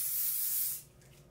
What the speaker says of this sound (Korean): 그리고 이 스프레이는 굉장히 약한 스프레이이기 때문에